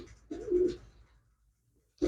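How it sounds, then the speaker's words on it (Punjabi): A female pigeon gives one close, soft coo, followed by a short silence before another coo begins just as the sound cuts off. "ਇਹ ਕਬੂਤਰੀ ਹੈਗੀ"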